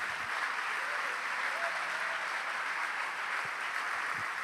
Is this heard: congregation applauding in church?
yes